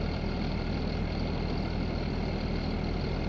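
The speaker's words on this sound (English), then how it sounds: "So interesting sound on this tractor. It seems like it needs a little help if you ask me" A white tractor idles in the Farming Simulator 19 game, its engine a constant, dense low rumble with an unchanging steady drone throughout, loud and close with no other sounds.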